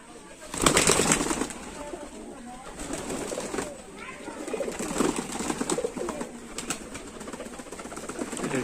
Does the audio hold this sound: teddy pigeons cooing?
yes